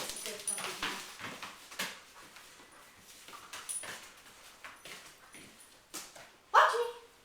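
A puppy whimpers and yips softly during a training session, in brief high cries mixed with a person speaking and some handling noise, ending in one louder yelp.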